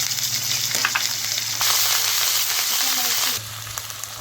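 Chopped onion frying in hot oil for a rohu fish kalia, a steady close sizzle with faint stirring scrapes running throughout and no talk over it.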